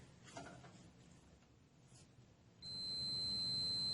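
A multimeter continuity tester held on the ignition points of a Toro 724 snowblower gives a sustained high electronic beep that starts partway through after some quiet handling noises, close and clear.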